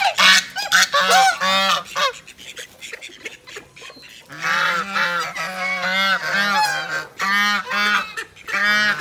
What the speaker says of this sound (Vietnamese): Mấy con ngỗng này cũng ác lắm.